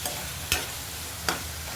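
Tomato is stirred and fried in a pan for a soya chunk roast. A steady sizzle runs under two distinct spatula scrapes spaced under a second apart, with no voices.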